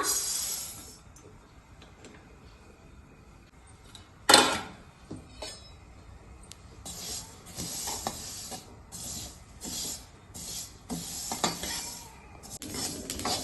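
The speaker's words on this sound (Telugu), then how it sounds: "ఇవి వేయించాలి, నువ్వులు వేయించుతున్నా." Sesame seeds roasting in a pan on a stove, with a faint steady hiss and light scraping and clinking of a spoon stirring against the metal, one sharper knock partway through, quiet and close.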